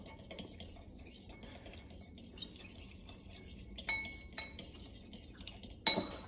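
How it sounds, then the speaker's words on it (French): Spoon clinking against a bowl while mixing a homemade pizza topping of parsley and garlic powder, soft scraping with a few sharper clinks near the end. "du persil et un petit peu d'ail en poudre. On mélange une première fois."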